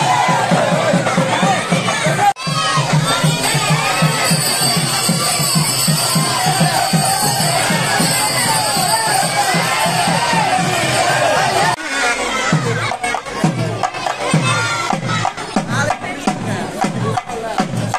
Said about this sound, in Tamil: தேரை வடம் பிடித்து இழுத்து ஹரோகரா என்ற முழக்கத்துடன் சாமி தரிசனம் செய்தனர்